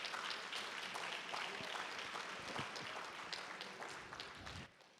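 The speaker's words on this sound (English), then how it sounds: "give him a big round of applause" An audience at the 2008 I Love My Neighborhood poster contest award ceremony breaks into steady, even applause, a sustained wash of many hands clapping at moderate distance that fades near the end.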